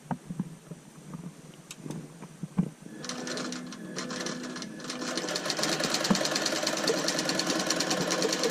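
A quilting machine stitches a purple quilt, starting with a few faint clicks before its motor hum and fast, even needle chatter build up and run steadily, close and moderately loud.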